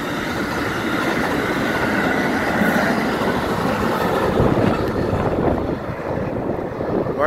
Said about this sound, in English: Northbound Amtrak, train 58.